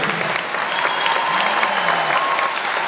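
Audience applause at a staged evening show, a dense sustained wash of clapping from a large crowd that holds steady throughout, with faint whistles or tones faintly over it.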